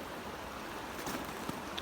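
A river creek flows steadily nearby, a faint broad wash of moving water with a few small splashes, no voices present.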